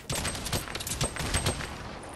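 In a Fortnite firefight, a burst of sharp blasts and rapid gunfire-like pops rings out at moderate distance, a grenade explosion amid the clattering volley with no talk over it.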